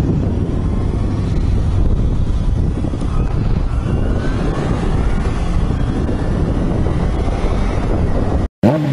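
Strong, continuous wind roaring and buffeting close to the microphone on a moving Kawasaki Ninja 250 motorcycle, a steady low rumble that cuts out abruptly just before the end.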